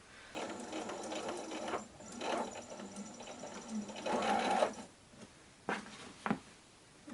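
A sewing machine stitches a patchwork block from leftover fabric scraps, with bursts of steady mechanical whirring broken by short pauses and a few quick starts near the end, close and clear, no talking.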